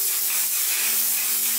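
A mattifying waterproof setting spray hisses out in one continuous, steady, close spray burst with no pauses or talking.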